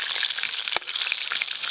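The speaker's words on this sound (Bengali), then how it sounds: "এই মাছগুলো ভালো করে ভাজা হয়ে গেল" Pangasius fish pieces fry in hot oil, giving a steady, loud crackling sizzle with a couple of sharper pops, and no voices.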